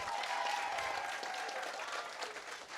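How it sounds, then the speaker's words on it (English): Sustained audience applause at a fifth-grade moving-up ceremony, a dense steady clatter of many hands clapping throughout without a break. "Can we give her another round of applause?"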